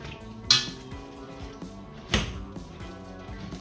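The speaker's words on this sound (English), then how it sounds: "we're going to get this mashed up. I'm just going to be using a potato masher" A metal potato masher pressing strawberries with lemon juice in a pot for Carolina Reaper jam, giving two distinct clanking knocks against the pot over soft squishing, with no talking.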